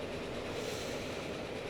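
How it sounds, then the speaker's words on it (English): A passenger train runs steadily in the railway game Transport Fever 2, giving a loud, continuous rumble with a faint clickety-clack of wheels on the rails and no talk. "here's a passenger train."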